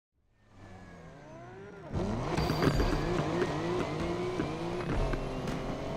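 A car in Need for Speed Unbound revs up from near silence, then the engine climbs loudly through repeated gear shifts, its pitch rising and dropping in a steady sweeping pattern as it accelerates hard.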